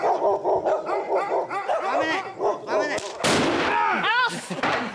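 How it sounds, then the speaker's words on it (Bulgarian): Firecrackers set off outdoors go off in a rapid string of sharp, loud cracks and bangs, with a dog barking repeatedly among the blasts. "Ще гърмиме с пиратки."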